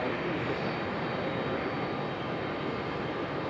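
An airliner in Boston Bruins livery at Raleigh-Durham airport gives a continuous distant jet engine roar, even and unbroken, fairly faint, with no one talking.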